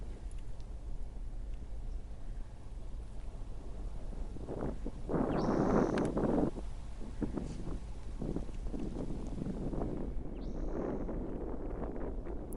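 Gusts of wind buffet the microphone, rising into a strong rush midway and again near the end, with rustling in between.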